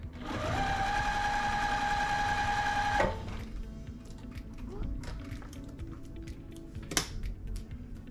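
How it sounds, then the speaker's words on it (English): A sewing machine runs a quarter-inch seam on quilt fabric with a 1/4 inch foot, a steady fast whirring hum for about three seconds before stopping, followed by quiet handling clicks. "So we will just sew this with a 1/4 inch seam"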